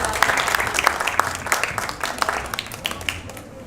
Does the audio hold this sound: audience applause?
yes